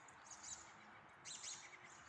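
Red-breasted robins chirp and call from trees overhead on a sunny January day after rain, two short bursts of high tweets, faint and distant over steady outdoor background noise.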